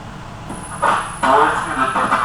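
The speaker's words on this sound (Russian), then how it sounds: "Поезд идет по платформе 33 километра." A commuter train runs after its doors close, a steady rolling rumble building in bursts as the carriage moves, with a thin high whine above it.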